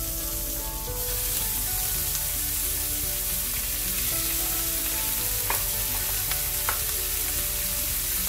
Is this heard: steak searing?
yes